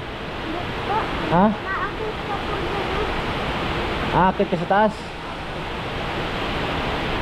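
Rushing water from a river fills the background as a steady, broadband roar, with people talking briefly over it.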